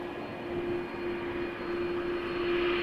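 A WestJet Boeing 737-800 jet airliner at Toronto Pearson Airport, its engines a steady drone with a constant tonal whine, swelling slightly, heard from a distance.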